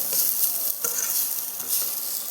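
Spices and coconut roasting until golden for a Tamil fish curry, a loud close crackling sizzle with brisk stirring scrapes throughout a short stretch, no talking.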